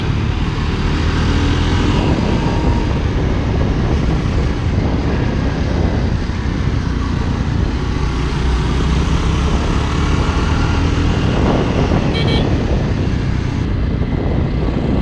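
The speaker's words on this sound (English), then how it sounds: "right now I'm riding Pèràk, Jawa Pèràk" Jawa Perak motorcycle on an evening ride, a loud, steady engine drone with heavy wind rush running unbroken and close throughout, no voices.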